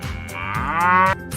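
A single cow moos loudly and close by, a long drawn-out low call that rises in pitch and holds before cutting off.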